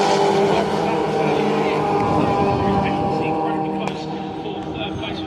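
Mini race cars at Brands Hatch pull away as a pack, a loud layered engine roar that holds steady with a slight fade, overlaid by commentary.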